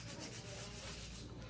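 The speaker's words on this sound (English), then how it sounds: "Right now, I'm just doing some hand filing." Hand filing of acrylic nail tips, a steady close-up abrasive rubbing and sanding with a soft even rhythm, quiet and continuous with no speech.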